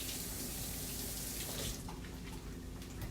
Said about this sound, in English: now I cut off the ends of the green onions, and now I'm going to wash them